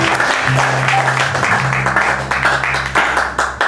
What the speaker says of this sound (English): Got to give them a good clap